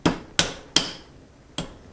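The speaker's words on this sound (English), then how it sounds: "If you need to, a couple whacks with a hammer," Four sharp hammer whacks seat a part on a Carcano Cavalry rifle, close and loud, in an uneven rhythm with short ringing decays and a longer pause before the last blow.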